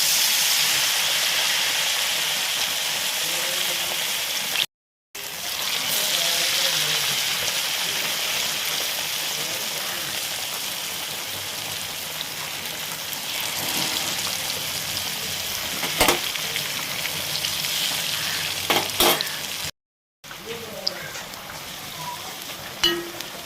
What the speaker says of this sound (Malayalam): മാവിൽ നല്ല ഒന്നാണ് മുക്കിയിട്ട് പതുക്കെ എടുത്തിട്ട് നമ്മൾ ചൂടായ എണ്ണയിലേക്ക് ഇങ്ങനെ അടുത്ത് വെക്കുക